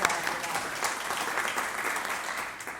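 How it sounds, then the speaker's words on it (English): Audience applause during an animal protection leadership talk: a steady wash of many hands clapping together, sustained and moderately loud, tapering slightly toward the end. "giving a round of applause for that"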